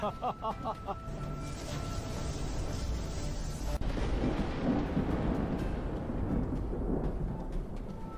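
Deep, rolling thunder rumbles continuously, heavy and close, with a crackling burst partway through, over a dense low roar like a storm of lightning.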